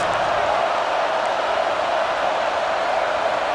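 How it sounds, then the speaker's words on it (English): In EA Sports College Football 26, a stadium crowd roars at a game, a dense and steady wash of cheering noise that holds at an even level throughout with no clear break. "Listen to this crowd just shaking the girders of this place trying to help their defense."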